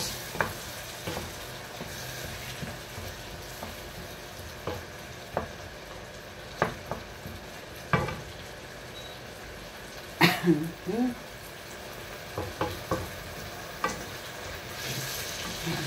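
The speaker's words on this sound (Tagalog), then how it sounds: "Kamatis yan na fresh na ginisa ko muna siya sa para lumambot siya." Fresh tomatoes sautéing in a pan make a continuous soft sizzle, broken by frequent sharp clicks and scrapes of a utensil stirring and tapping, with a louder clatter midway and occasional voice sounds nearby.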